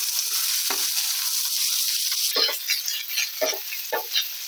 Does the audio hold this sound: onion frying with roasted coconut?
yes